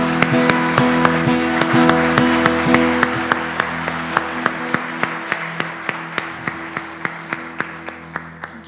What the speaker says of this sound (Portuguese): Você pode aplaudir a esse Deus?